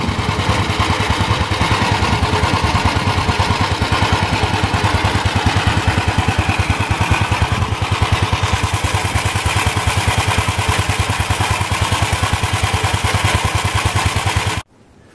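An engine idles steadily after a cold start at 18 degrees, a loud, even low rumble with a regular pulsing beat that holds throughout and then cuts off abruptly near the end.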